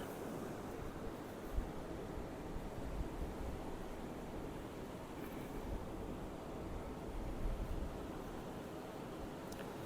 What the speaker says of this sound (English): Joy of cooking outdoors, you use twice as many ingredients as you need, dealing with the wind.